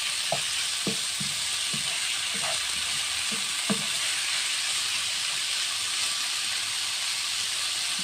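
Chicken frying in a pan for a quiche with peppers and red cheese, a steady broad sizzle and hiss running throughout with a few soft stirring knocks near the start.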